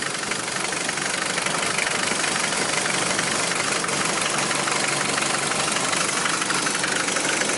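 A worn Mercedes-Benz engine with heavy blow-by runs steadily at idle, a dense, even, close rumble with a gritty hiss and no pauses.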